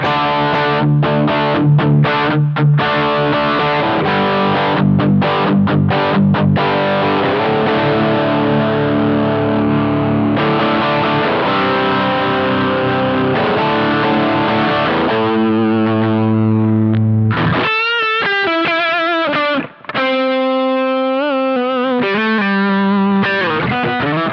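Electric guitar played through a NuX Steel Singer Dumble-style overdrive pedal with reverb added, in the neck pickup position: sustained, overdriven chords and single notes ring loudly and continuously, ending on a sequence of clear held notes.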